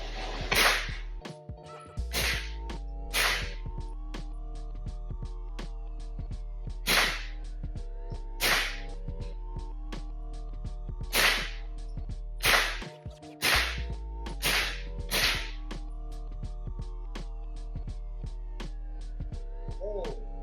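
A suppressed AR9 fires subsonic and supersonic rounds, about a dozen sharp cracking reports spaced irregularly over a low steady hum, loud and alone with no talk.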